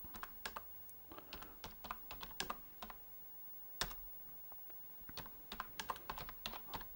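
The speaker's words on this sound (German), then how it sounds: "Ist ein riesen Softwareprojekt, das ich hier jedes Mal eintippe." Steady typing on a standard PC keyboard hooked up to a Commodore C64, with irregular bursts of sharp key clicks, short pauses and one heavier key strike, close and clear with no speech.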